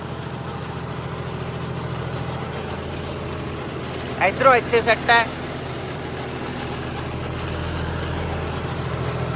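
A 5210 tractor used for wheat sowing idles with a steady, low rumble throughout, while a person speaks briefly near the middle.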